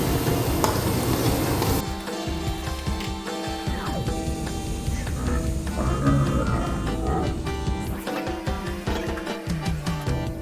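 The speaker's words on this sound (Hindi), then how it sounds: "अभी प्याज पकने के टाइम लगेगा थोड़ा सा, तो प्याज पक जाएगा ना" Onions frying in a pan as chicken is cooked, a steady loud sizzle with stirring scrapes and clatter running throughout, with no talk.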